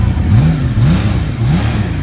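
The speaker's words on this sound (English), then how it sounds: "It's got a real exotic exhaust note when you get the RPMs up on it." An inline-six motorcycle engine revs up and down in repeated rising sweeps with an exotic, smooth exhaust note. It sounds loud and close, with a steady low drone between the climbs.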